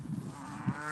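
A single low cow moo on a farm, short and fairly near, rising briefly over a background hum.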